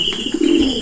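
Stock pigeons cooing close by, a soft low rolling coo swelling and fading over under a second, with a thin steady high tone running through the background.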